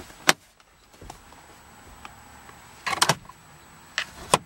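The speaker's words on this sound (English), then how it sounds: "Rear hatch release." Rear hatch release on a 2012 Chevy Malibu LT, a few short sharp mechanical clicks and clunks spaced apart in a quiet setting, one near the start and a tight pair and two more toward the end.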